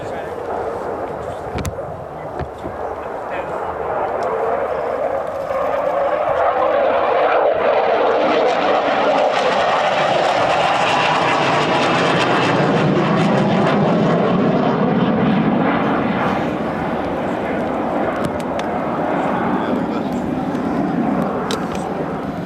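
A Royal Air Force Typhoon FGR.4 jet roars through a flying display at RIAT 2025, a loud sustained rumble swelling and fading as it passes overhead, with an announcer's voice running underneath.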